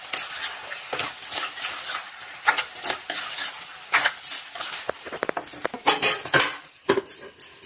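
A spoon stirring chili powder into hot oil in a metal pan, with repeated scraping and clinking strokes and a light sizzle, close and fairly loud throughout.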